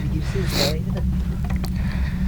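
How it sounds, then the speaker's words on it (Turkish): Wind buffets and rumbles across the microphone in a continuous low roar at a mountain hut at 1666 m altitude, with a few faint voices and knocks mixed in. "Bayağı rüzgarlı. Rüzgar Şurada."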